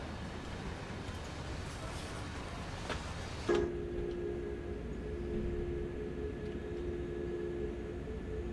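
A DB 146 electric locomotive runs on the Main Spessart line in Train Sim World, giving a steady, even rumble. A sustained electric whine joins partway through and holds to the end.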